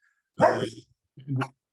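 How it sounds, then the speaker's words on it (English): Dogs barking indoors, two short bursts close to the microphone separated by a brief pause, loud and clear with no talk over them. "my dogs are barking"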